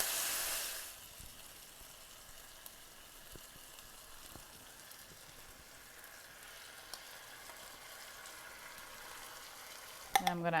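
Onion softening in a pan gives a faint, steady sizzle with a few soft clicks of stirring, ending in a short clatter.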